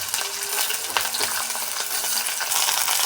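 Onion and capsicum fry in a pan for a healthy vermicelli upma, with a steady, close sizzle throughout and a few faint utensil clicks and scrapes, no voices.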